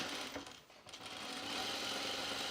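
Sewing machine running on a pullover camp dress, a fairly steady buzzing whirr nearby with a brief dip in speed early on.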